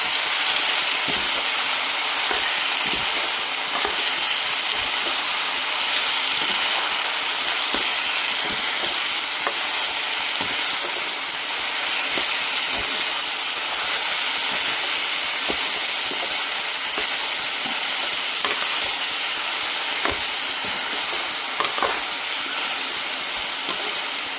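Mushrooms and taro leaves stir-fry in a hot pan with a steady, loud hiss and sizzle, broken by occasional soft scrapes and knocks of a spatula, with no voices.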